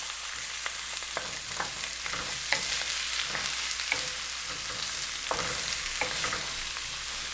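Ingredients for a Calabrese pasta al forno sauté in a pan, a steady soft sizzle broken by occasional crackles and stirring clicks, close and without talk.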